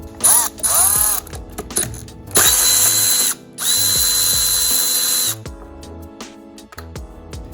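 Ratcheting wrench or power tool loosening a 10mm bolt on a 2004 Honda Civic engine during timing belt work, loud close bursts of buzzing ratchet clicks separated by short pauses, then fading to quiet clinks.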